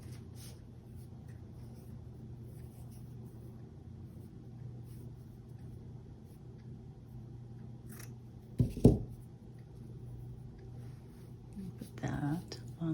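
Scissors snip through tea-stained cheesecloth in a couple of short, sharp cuts near the end, over a low steady background hum and faint handling noises.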